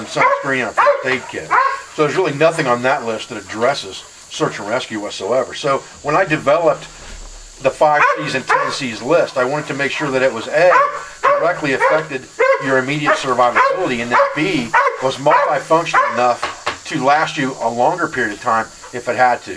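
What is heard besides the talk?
dog barking at two playing dogs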